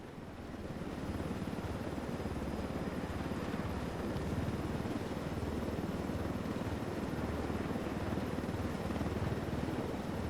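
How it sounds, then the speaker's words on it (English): Military-style helicopter in the video game Ghost Recon Wildlands, a steady loud rotor drone and turbine whine holding constant with no voices. "I told Griffin I could figure out how to fly this thing. Qualify for planes. But not choppers?"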